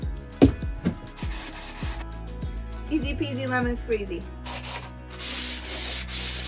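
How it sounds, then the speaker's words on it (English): Rhythmic rasping of hand sanding on wood, strokes repeating steadily, with a person speaking briefly over it. "just a hand sand is good enough"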